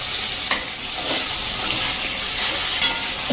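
Raw potato sabzi with salt cooks on a slow-to-medium flame, giving a soft continuous sizzle close by, with a couple of brief scraping knocks of the stirring spoon and no speech.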